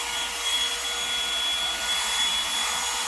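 Revlon One-Step Volumizing Hair Dryer blowing steadily, a close, loud broadband whoosh with a faint high whine, holding constant throughout with no talking.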